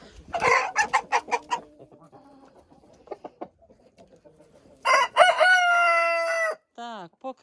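Roosters in a farmyard where they outnumber the hens: a burst of rapid hen clucking up close, scattered softer clucks, then a long, loud rooster crow followed by a second shorter one.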